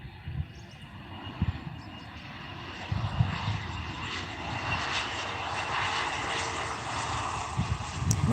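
A small plane from Swaziland lands at OR Tambo International Airport, its engine drone building steadily from a low rumble to a loud, sustained roar, with no talking over it.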